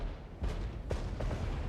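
Enemy artillery fire in the real-time tactics wargame Regiments, with a few dull booming impacts landing over a steady rumbling battlefield background.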